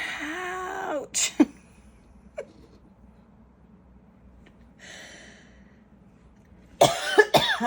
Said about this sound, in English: I need a cough. I'm sorry.